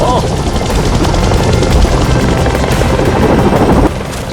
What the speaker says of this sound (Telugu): ఈ హెలికాప్టర్ నా వైపు వస్తుంది చాలా పెద్ద శబ్దంతో.